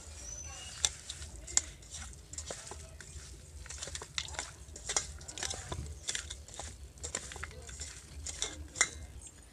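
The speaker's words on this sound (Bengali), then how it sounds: "মাংসটা খুব ভালো করে মেখে নিয়েছি" Chicken meat is mixed by hand with lemon juice, black pepper and spices for chicken satay, giving soft wet squelching and patting with scattered sharp clinks of a bowl or utensil, close and fairly quiet.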